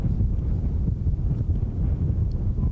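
Wind buffets the microphone outdoors on a golf course at a firefighters' tournament. It makes a loud, steady, low rumbling roar with no talk over it.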